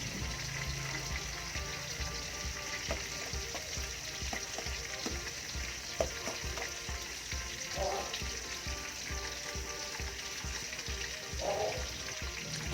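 Ginger sautéing in a pan for a Kapampangan mussel (tahong) dish, a steady soft sizzle and crackle running throughout with occasional clinks of a utensil against the pan.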